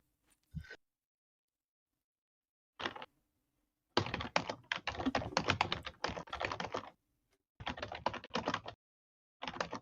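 Quiet keyboard typing in scattered bursts: a few isolated taps, then longer runs of quick clicking keystrokes separated by short silences, with no talking.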